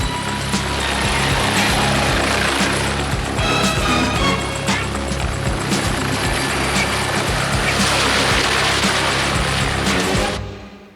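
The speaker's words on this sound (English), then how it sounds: "request permission, air clearance for takeoff" A helicopter lifts off in a covert military operation over London, its rotor roaring loud and steady with a pulsing chop and whining engine, close and sustained before cutting off abruptly at the end.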